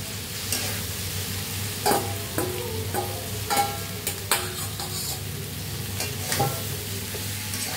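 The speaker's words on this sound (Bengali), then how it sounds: "ভালো করে মিক্স করে নিই এটা" Fried cauliflower, potato and soybean chunks being stirred in a pan, with repeated scraping strokes of a spatula against the metal over a steady low sizzle, close and fairly loud, no talking.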